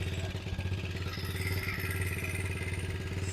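A cheap SYX Pro Moto dirt bike engine runs at a steady, rhythmic idle with a clattering, faintly heard texture throughout and no voices.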